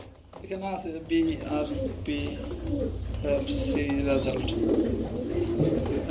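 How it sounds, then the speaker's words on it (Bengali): Racing pigeons coo in a loft, a pair among them, their soft repeated calls close by with people talking over them throughout. "ভাই এখানে দেখতেছি আমরা খুবই চমৎকার আরেক জোড়া কবুতর হয়েছে"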